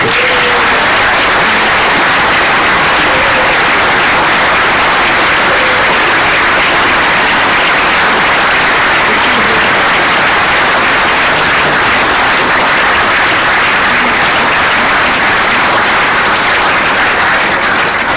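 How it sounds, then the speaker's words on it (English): An audience claps loudly and continuously after the introduction of an inaugural lecture by a new professor of Commonwealth history at Magdalene College, Cambridge, a dense unbroken wash of applause filling the hall. "Please join me again in giving him a great round of applause."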